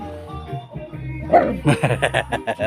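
A dog named Tidi barks in a quick run of short, loud yaps, close by, after a few softer whimpering sounds.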